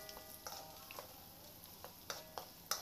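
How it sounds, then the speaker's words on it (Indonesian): Sliced galangal and ginger fry quietly in a pan for an Indonesian coto Makassar broth, giving a soft steady sizzle punctuated by several light clicks and scrapes of stirring, with no one talking. "Terus kemudian kita goreng juga lengkuas dan juga jahenya."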